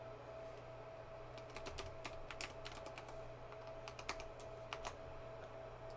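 Someone types a password on a computer keyboard, quiet irregular clusters of key clicks over a steady low background hum.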